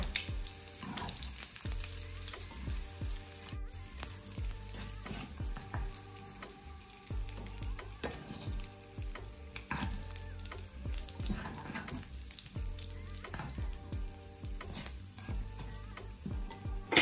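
Oil renders out of food frying in a pan with a steady, close sizzle and crackle, with occasional stirring scrapes over the constant hiss.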